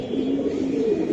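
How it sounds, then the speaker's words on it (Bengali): Steady low cooing and murmuring from male Giribaz pigeons held close by, a continuous soft purr that fills the moment with no talking. "দেখছেন ওর ফেস রাইট, প্রচুর বড় সাইজের, অনেক সুন্দর মাথার কবুতর"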